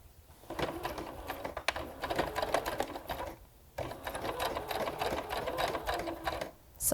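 A sewing machine stitches steadily through fabric with a fast, even mechanical rattle, close and clear, briefly stopping once midway before resuming.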